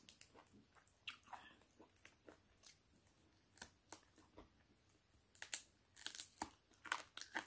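Hard old chicken bones being chewed and cracked by small teeth, faint close crunching and snapping clicks scattered irregularly, growing denser and sharper toward the end.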